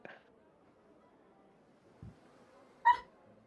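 A dog gives a few brief, scattered yelps or whimpers indoors, faint and sporadic against near silence, with a short louder yip near the end.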